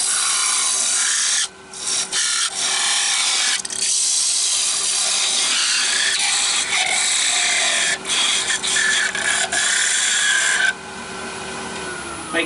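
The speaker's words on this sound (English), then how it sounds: "then we'll part it off completely" A wood lathe cuts into a spinning yew hollow form with a gouge or parting tool, giving a loud, harsh scraping hiss broken by short pauses as the tool lifts and bites again, with no talking.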